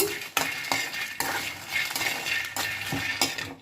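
Peanuts and dried red chillies dry-roast in a pan, stirred continuously with a metal spoon, giving scraping, rattling strokes with a faint sizzle underneath, close and without talk.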